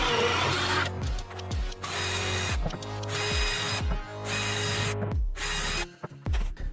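A power drill bores holes through a wooden worktop in a van, several loud close bursts of whirring and grinding with short pauses and spin-downs between them.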